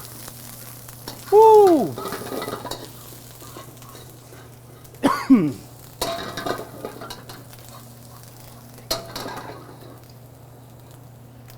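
Ginger and garlic dropped into hot chili oil, giving a steady sizzle with a couple of louder bursts as ingredients hit the pan, and a brief voice exclaiming.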